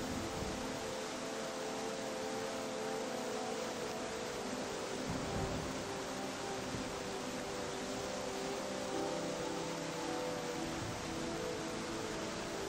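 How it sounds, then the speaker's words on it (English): Steady broadband hiss filling the ambience of Connor Sherlock's video game Peak Bleak Blues, an even, unbroken wash of white noise with faint low rumbling beneath, constant throughout and quiet overall. "So much white noise."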